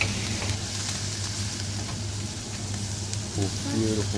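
Spicy garlic potatoes with chili and coriander frying in a pan, a steady close sizzle with a few stirring scrapes and clinks toward the end.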